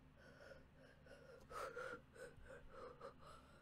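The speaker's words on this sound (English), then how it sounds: "I can hear 2 breathing sounds" Heavy, gasping breaths in a horror video game, a series of quiet, ragged inhales and exhales in an uneven rhythm, faint and close with no talk over them.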